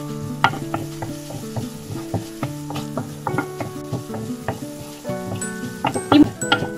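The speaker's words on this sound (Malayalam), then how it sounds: "വേപ്പില ആഡ് ചെയ്ത് കൊടുക്കാം." Curry leaves crackle in a hot pan with green chillies for a tomato fish mappas curry, with rapid popping sizzles and frequent metallic clinks of a spoon stirring against the pan.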